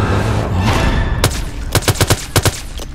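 Rapid gunfire in Project Zomboid, a burst of sharp close shots in an uneven rhythm following a stretch of steady background noise.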